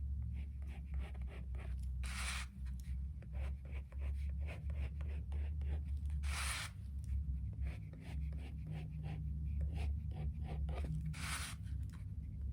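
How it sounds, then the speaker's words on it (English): Pencil drawing a cutting line on a paper plate: a steady run of soft, close scratchy strokes, broken by a few brief, louder sweeping scrapes. "So I'm drawing my cutting line."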